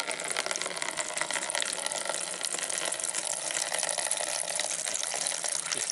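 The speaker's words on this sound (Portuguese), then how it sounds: "vou abrir a torneira." Liquid pours steadily from an opened tap on a compost bin stand, draining leachate at a garden plot. The flow is a continuous, even gush with no pauses or talk.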